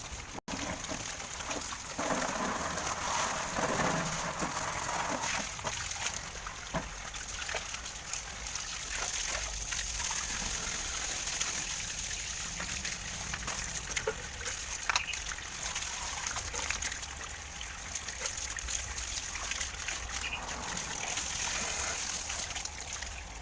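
Wash water from a tilapia fish pond being cleaned flows out through a drain hole toward a ditch in front of a house, a steady, continuous rushing trickle that holds at an even level throughout with no talking.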